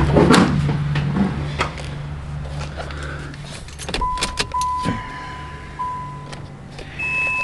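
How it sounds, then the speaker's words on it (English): Turbocharged 3500 V6 in a Grand Prix, running only a downpipe with no exhaust and a fresh Megasquirt tune, cranks and starts. A brief mechanical whir and clunk come first, then a raw, uneven engine note, close and loud, with electronic beeps. "Let's hear this motor start. There's no exhaust on it right now. It's just a downpipe"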